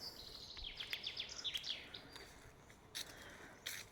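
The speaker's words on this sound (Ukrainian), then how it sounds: "Пташки співають." Birds chirp in a spring forest in May, quick high repeated notes in a short run near the start, then a few isolated calls later over a quiet, faintly hissing background.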